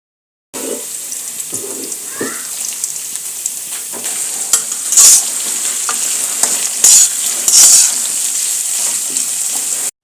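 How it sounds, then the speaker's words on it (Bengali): Chopped onion and green chilli hit hot oil in a pan and fry with a steady sizzle, with intermittent scraping and stirring clatter and a few brief louder spatters, close and alone. "এরপর কেটে রাখা পেঁয়াজ আর মরিচ কুচি দিয়ে দিলাম"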